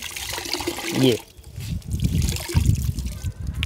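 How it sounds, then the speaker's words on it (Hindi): Water trickles and splashes as a cleaning cloth is wrung out during car interior cleaning, a close, wet dribble heard under a person's ongoing talk. "ऐसा कपड़ा लिया, इसको थोड़ा अच्छे से निचोड़ेंगे"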